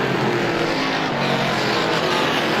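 Race cars roaring around the Star Speedway oval during a heat race, a loud continuous engine drone from several cars running close together.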